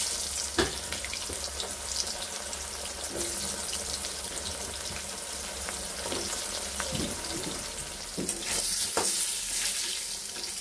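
Pointed gourd (potol) frying in oil, a steady close sizzle and crackle with occasional clinks and stirring noises throughout.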